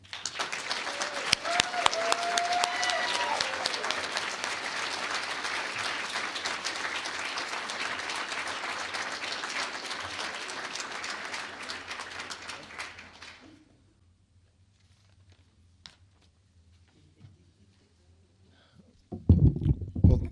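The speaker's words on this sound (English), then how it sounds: "Please thank Jesse for his leadership with a round of applause." Audience at an annual human rights awards breakfast applauding, dense sustained clapping for about thirteen seconds that fades out into near silence before a sudden louder noise at the end.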